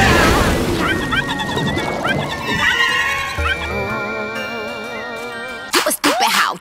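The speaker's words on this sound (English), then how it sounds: "fire and bomb rocks don't mix very well." Bomb rocks exploding beside fire in the video game Pikmin 3, heard as a sudden burst of crashing booms near the end after a stretch of busy game music and creature chatter.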